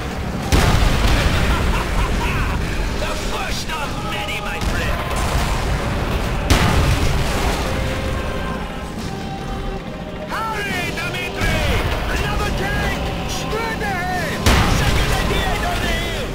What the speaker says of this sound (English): they're firing bazookas on these trenches